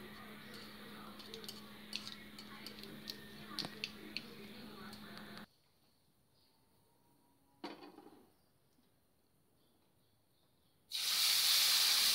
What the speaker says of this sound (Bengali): মশলাটা এবার আমি দিয়ে ভালো করে ফ্রাই করে নেব